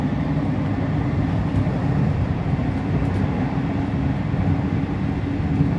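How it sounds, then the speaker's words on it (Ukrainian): A modern electric commuter train runs from Foligno to Rome, heard from inside as a steady low rumble of wheels and motors with a continuous cabin hum. "Електрички сучасні. Сучасна електричка."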